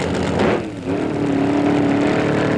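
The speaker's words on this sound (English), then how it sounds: "Up come the revs." Alcohol funny car engine at a 1991 IHRA drag race in Illinois, a loud nearby rev that briefly dips and then holds a steady, high droning pitch to the end.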